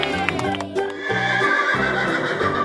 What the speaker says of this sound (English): It's a horse!